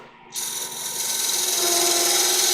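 A parting tool cuts into a wooden goblet spindle on a lathe, starting abruptly from quiet into a bright, sustained scraping whine that grows steadily louder and holds without talk.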